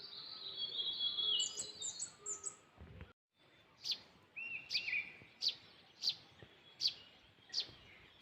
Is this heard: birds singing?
yes